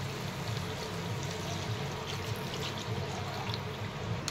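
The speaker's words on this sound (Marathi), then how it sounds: "पातळ भाजी पाहिजे किंवा घट्ट पाहिजे तेवढं असं पाणी ओतून घ्यायचं" Water is poured steadily into a paneer masala gravy in a cooking pot, making a continuous close pouring and splashing stream that lasts throughout without a break.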